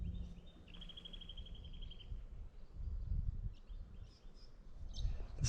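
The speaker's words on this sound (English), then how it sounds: "And bird sounds." Wild birds calling in the bush among yellow flowers, grass trees and white soil near Kalbarri, with a thin high trill and scattered chirps over soft wind and outdoor ambience.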